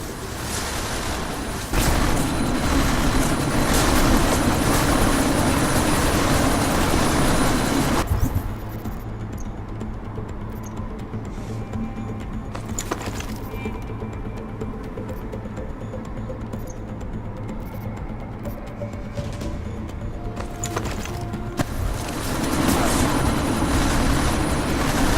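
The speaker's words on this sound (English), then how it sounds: "That chopper's about to take off." A military helicopter preparing to take off in the video game Deus Ex: Mankind Divided gives a loud, steady rotor and engine roar that continues throughout, easing in the middle and swelling again near the end.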